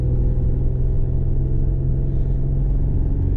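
Chevrolet Camaro 'Chaos Theory' engine, a deep steady rumbling drone heard close up from inside the car, holding roughly even without sharp revs.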